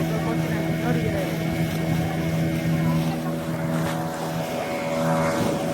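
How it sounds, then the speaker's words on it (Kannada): A fishing boat's engine drones steadily at a fishing harbour beside a fish auction centre, a constant loud hum with voices talking underneath. "ಇದು ಫಿಶಿಂಗ್ ಬೋಟು"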